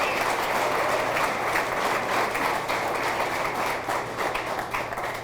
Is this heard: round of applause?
yes